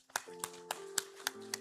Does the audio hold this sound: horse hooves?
no